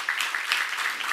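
A church congregation claps hands together in a dense, even burst of applause, close and fairly loud, with no talk over it.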